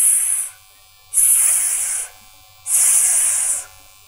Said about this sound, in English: a spotted snake crawls out of the sand and start hissing loudly